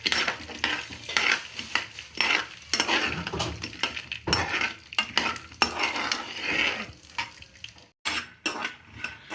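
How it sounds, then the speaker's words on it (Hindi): Peanuts roasting in melted fat in a pan, scraped and stirred in quick, uneven bursts of rattling and clinking against the metal, loud and close with a light sizzle beneath. "तो ये हम अच्छे से मूंगफली को रोस्ट कर लेंगे, भून लेंगे अच्छे से।"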